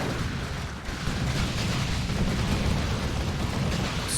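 A grenade explosion in Dawn of War 2 sets off a broad, rumbling low boom that rolls on steadily amid surrounding battle noise.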